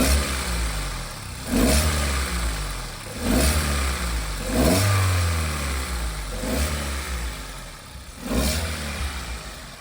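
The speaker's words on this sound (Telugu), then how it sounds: "ఈ వెహికల్ సంబంధించినటువంటి ఇంజిన్ ఒకసారి స్టార్ట్ చేసి మీకు వీడియోలో చూపించడం" A Maruti Ertiga's engine runs steadily with a low mid-pitched hum, revving up in four or five distinct swells spaced a couple of seconds apart, close and loud with no talk.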